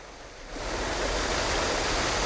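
Raw Han River water rushes into the intake of the Amsa Arisu water treatment plant, a steady broadband roar of flowing water that swells after the first half-second and stays loud and even with no talk.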